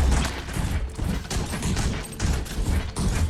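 Rapid, continuous bursts of turret gunfire in the VR strategy game Brass Tactics, loud and close, with a dense rattling texture.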